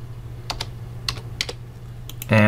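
Several quick keystrokes clack on a computer keyboard in a quiet room, arriving in short irregular bursts over a low steady hum.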